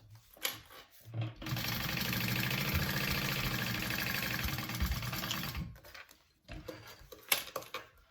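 Sewing machine stitching steadily to baste a fabric bucket bag closed, a continuous mechanical whir lasting several seconds, bracketed by brief handling clicks and thumps before and after.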